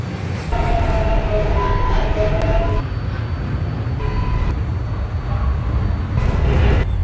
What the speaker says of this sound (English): This is an Eastchester Dyre Avenue bound 4 train via the 5 line.